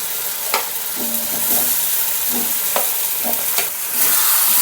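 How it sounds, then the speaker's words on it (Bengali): Spice paste being stir-fried with potato and taro for a fish curry, a loud continuous sizzle with several spatula scrapes and knocks against the pan at irregular intervals, no voices. "ভালো করে একদম মশলাটা কষিয়ে নিচ্ছি আলু দিয়ে কচু দিয়ে সুন্দর করে"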